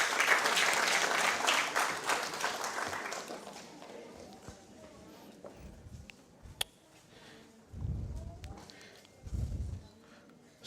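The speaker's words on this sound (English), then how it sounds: "Please give her a round of applause." An audience at an awards ceremony applauds in a burst of clapping that fades within a few seconds, leaving a quiet room with scattered thumps and low rumbles.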